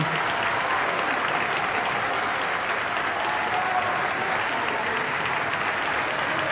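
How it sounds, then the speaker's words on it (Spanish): Steady, dense applause from ministers and legislators at the opening session of Argentina's National Congress, continuous and even in loudness throughout, with no voices standing out. "El aplauso de los ministros y de los legisladores del Honorable Congreso de la Nación."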